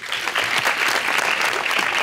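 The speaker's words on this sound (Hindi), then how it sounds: "तालियां।" A studio audience on a talk show claps loudly and steadily in a dense, unbroken burst that lasts about two seconds. No voice is heard.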